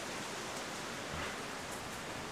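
Steady, gentle rain from Hurricane Harvey falling outdoors, a continuous even hiss with no distinct drops or voices, moderately quiet throughout.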